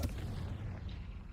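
A Confringo fire spell explodes in Hogwarts Legacy as one short, muffled boom with a low rumble that trails off.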